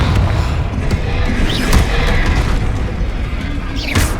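Confringo blasting spell in the Hogwarts Legacy video game: dense, loud booming blasts and thuds crowd the scene, with a couple of sharper whooshing bursts over continuous action noise.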